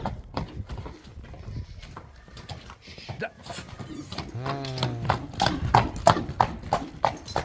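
A young horse's hooves trot at a steady clip-clop close by, with a short whinny partway through and people talking over the footfalls.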